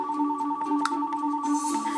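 A telephone rings in The Sims life-simulation game, a steady electronic ring tone holding on under light game music, with no talk.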